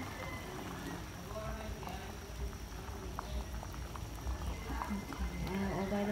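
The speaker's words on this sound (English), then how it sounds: "it's been like 4 minutes, I think, and it's boiling." Squash boiling in a pot on a kitchen stove gives a steady bubbling simmer with soft irregular pops, heard close beneath a person talking.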